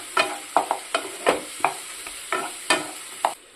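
Ground spices, including cumin, coriander, Kashmiri red chilli powder and black pepper, are sautéed and stirred in a pan for pomfret curry, with a spoon scraping in short rhythmic strokes about nine times over a soft sizzle.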